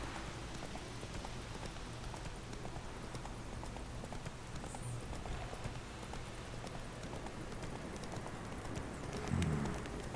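Horse galloping in The Witcher 3 video game, a steady rapid clip-clop of hooves running continuously under faint game ambience, with a brief snort or whinny near the end.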